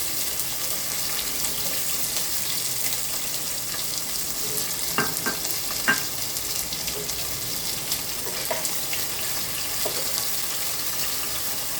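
Chopped onions frying in hot oil with bay leaves in a pan for mutton curry, a steady broad sizzle throughout with a few faint scrapes of stirring, close and continuous with no talk.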